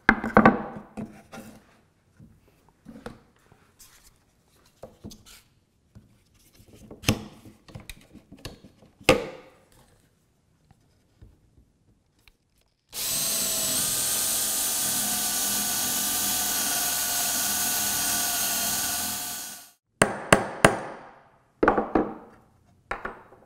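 A loud, steady drill or jigsaw runs continuously for several seconds cutting wood for a benchtop router table, bracketed by scattered clunks and knocks of handling wood.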